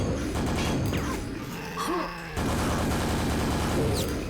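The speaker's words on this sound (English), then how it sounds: "grab the super nail gun, or as it's called in this mod, the perforator" Super nail gun, called the perforator, fires in Quake, a rapid, loud stream of mechanical shots with brief pauses, mixed with other game noises.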